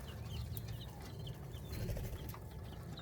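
Pheasant chicks on a farm in Fergana, Uzbekistan peep and chirp faintly and repeatedly over a constant background hum, with no voices.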